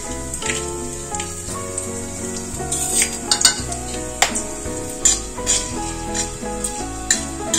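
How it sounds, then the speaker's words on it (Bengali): Whole spices, cinnamon, cloves and peppercorns, fry in a pan for khichuri, a steady sizzle broken by a few sharp scrapes and clinks of a spoon against the metal. "গোটা মশলাগুলো সব ভাজা হয়ে গেছে।"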